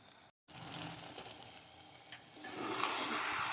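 Fenugreek leaves and potatoes fry in a pan with a soft, continuous sizzle after a brief gap. The hiss swells and brightens toward the end as more leaves go in and are stirred.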